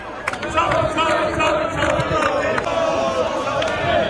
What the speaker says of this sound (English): in Blackpool, where more fighting broke out in the crowd